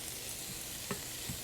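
Chicken fries in a pan with a steady close sizzle and crackle, broken by a couple of brief louder pops, with no voices.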